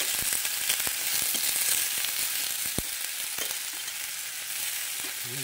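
Crab going into a pot of coconut-milk stew brings a dense, steady sizzle with scattered pops and stirring clatter, close and continuous, with no talking.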